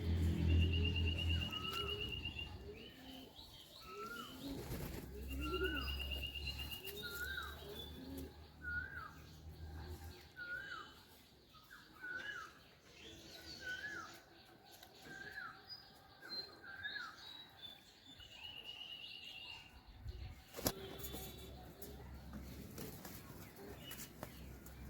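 Pigeons in a home loft coo on and off through a long quiet stretch, with repeated soft murmuring notes, scattered chirps and an occasional wing flutter, and no one speaking.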